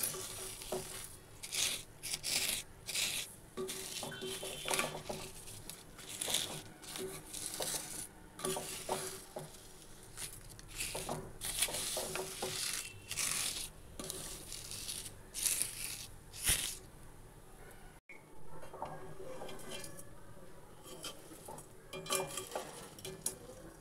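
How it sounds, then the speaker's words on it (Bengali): Bottle gourd semai vermicelli with sugar is stirred in a pan, a spoon scraping and clinking against the metal in irregular strokes over a quiet sizzle, with a brief pause near the end. "এবার এর সঙ্গে মিশিয়ে নেব।"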